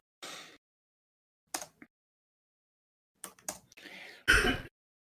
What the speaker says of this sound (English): No, that's my dad coughing.